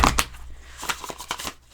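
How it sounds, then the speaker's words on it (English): Tarot deck being shuffled by hand, a few quick riffling bursts of cards with short pauses between, close and fairly quiet with no talking. "I'm going to do one more shuffle so we get the bottom of the deck,"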